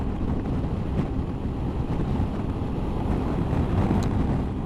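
Steady rushing wind buffets around a rider on a Honda ST1100 motorcycle fitted with an MRA screen at cruising speed, a constant low roar that fills the whole stretch with no voices.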